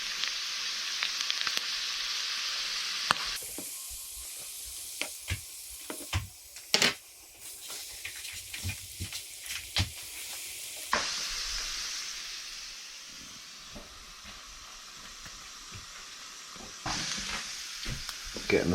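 Salt and pepper squid rings frying in hot oil, making a strong continuous sizzle broken by clinks and stirring knocks, with the hiss dropping and rising again as the pan is handled.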